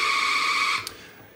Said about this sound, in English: And pin 40 is homing missile.